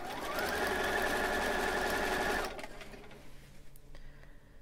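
A sewing machine runs steadily at close range while stitching a monk robe, a loud continuous mechanical whir that stops abruptly partway through, leaving quieter room sound behind it.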